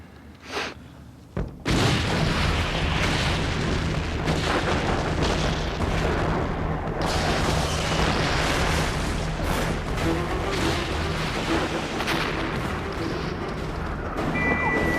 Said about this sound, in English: As their artillery fired overhead, they moved forward, sometimes unchallenged, more often cut down by machine gun and rifle fire.